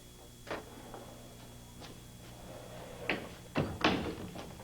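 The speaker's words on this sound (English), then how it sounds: "Doors open." A door opens indoors with a few scattered thuds and clicks of the latch and handle, faint and spaced out over a quiet room-tone background.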